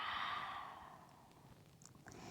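A person breathes out during a spine exercise, a long soft airy exhale that is close at first and fades away over about a second, followed by quiet.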